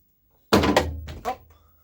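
A door handle is pried off a Chevrolet Lacetti car door, giving a sharp plastic clunk followed by a second, smaller knock, close and alone.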